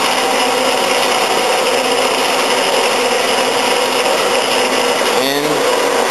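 A Harbor Freight band saw cuts through a metal bar with a steady, loud grinding whir, close and continuous, with a brief squealing scrape near the end.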